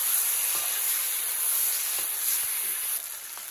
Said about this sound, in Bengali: এবার আলু দিয়ে দেওয়া হচ্ছে। সব ভেজে নেওয়া হচ্ছে এখন।